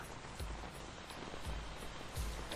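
Rain in the video game Metal Gear Solid 2, a faint steady hiss of falling rain with soft low thumps recurring every second or so.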